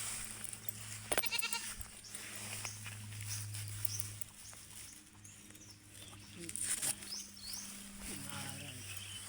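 A lone goat at its drinking spot on a small Filipino farm bleats several times, close and clear, with footsteps and rustling around it.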